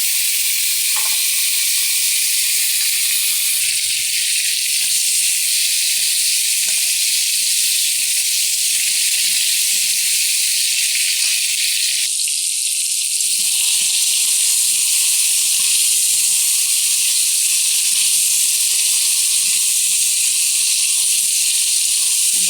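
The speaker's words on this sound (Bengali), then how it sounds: "এবারে আমি কেটে রাখা আলু আর টমেটো একসাথে দিয়ে দিচ্ছি।" Diced potatoes and tomatoes hit hot oil tempered with dried chillies, cumin and bay leaf for a Bengali fish curry, giving a loud, continuous close hiss that shifts slightly in tone partway through, with no talk.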